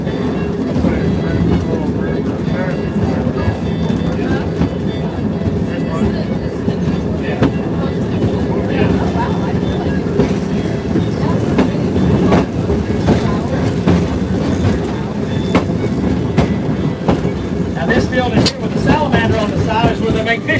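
A train rolls steadily along the tracks beside the French Broad River with continuous rumbling and rhythmic clacking, wind buffeting the microphone throughout.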